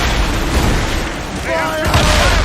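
Heavy booming cannon fire from sailing warships in the video game Assassin's Creed Rogue, a dense continuous roar of blasts and rumble with shouting voices breaking through partway.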